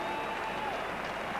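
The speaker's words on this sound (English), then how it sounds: "Applause from the Australian players and from the spectators around the ground" Applause from Australian fielders and spectators around a cricket ground after a Test century in the West Indies, a faint, distant, continuous patter of clapping with a steady tone running underneath.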